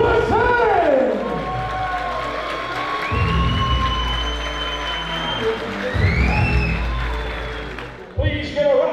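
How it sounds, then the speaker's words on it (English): A large wrestling-event crowd applauds and cheers loudly throughout, with whoops and shouts rising over the clapping, and a brief burst of louder noise near the end. "Please give a round of applause and welcome"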